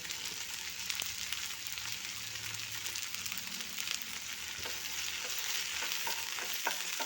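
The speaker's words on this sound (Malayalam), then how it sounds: "ഇനി ഒന്നുകൂടെ നല്ലോണം ഒന്ന് വഴണ്ട് വരുന്നത് വരെ ഇളക്കിക്കൊണ്ടിരിക്കണം" Okra, green chili and onion stir-frying in a pan, a steady close sizzle with occasional scraping stirs and light clicks of the utensil, no voices.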